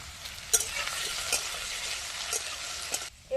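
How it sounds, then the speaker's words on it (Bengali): Cut potatoes fry in mustard oil with black cumin in a kadai, a steady close sizzle broken by several scraping stirs of a spatula, briefly dipping near the end before resuming. "কেটে রাখা আলু দিয়ে দেবো। আলুটা একটু ভাজবো"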